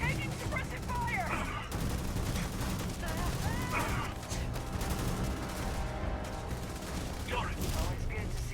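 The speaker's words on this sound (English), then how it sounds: "I'm taking suppressive fire!" Gunfire in the sci-fi video game Starfield, dense bursts of rapid shots mixed with game effects and a voice, continuous and loud throughout.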